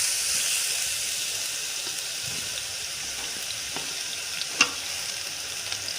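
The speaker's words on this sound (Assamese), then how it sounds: "এতিয়া ইয়াত পিঁয়াজ দিয়া হ'ল" Onions fry in hot oil in a wok for a masala brinjal and paneer curry, giving a steady, close sizzle with a few faint stirring scrapes and one brief clink near the end.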